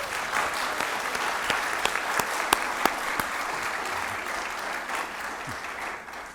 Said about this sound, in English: let's give you a round of applause for all the hard work